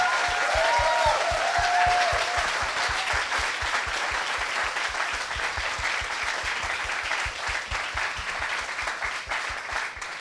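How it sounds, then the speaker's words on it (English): A crowd of about 150 people at a speaking and storytelling event applauds the final speaker. Loud, sustained clapping carries on for ten seconds over a regular low thumping pulse. "And I think Sampras deserves a huge, massive round of applause"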